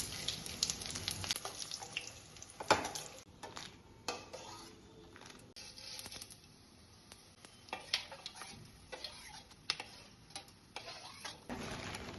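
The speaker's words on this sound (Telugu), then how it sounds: "ఆయిల్ మంచిగా హీట్ అయిన తర్వాత ఎండుమిర్చి వేసి వేయించుకోవాలి." Dried red chillies and cumin fry in hot oil for gongura pickle, heard as faint, scattered crackles and sharp little pops against a quiet background.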